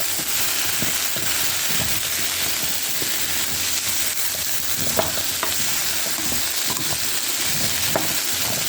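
Pumpkin cooks in a pot with a loud, continuous sizzle close by, and occasional clinks and scrapes of stirring come through.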